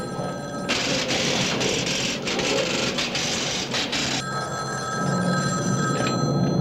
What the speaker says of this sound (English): Your phone's ringing.